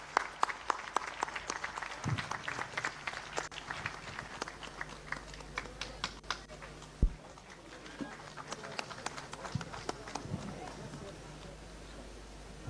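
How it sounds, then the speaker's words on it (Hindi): An audience at a Goa Konkani event in Delhi gives scattered, uneven applause, with irregular claps and thumps and a loud bump midway, while speech runs through parts of it. "आप जोरदार तालियां बजाइए।"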